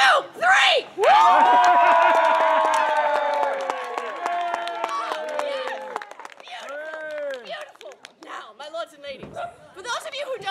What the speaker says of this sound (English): I want to hear the greatest, most enthusiastic cheering and laughter you possibly can muster